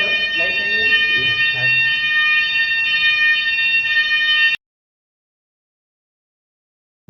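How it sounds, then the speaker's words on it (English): A fire alarm rings in an animated scene, a steady high buzzing tone that holds for about four and a half seconds before cutting off abruptly, with voices talking over it. "Oh, there is a fire alarm."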